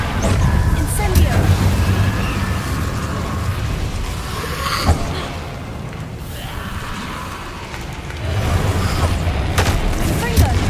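In Hogwarts Legacy, the Incendio fire spell is cast repeatedly in combat, giving loud booming bursts and rumbling fiery blasts over dense, continuous game noise, with a sharp impact near the middle.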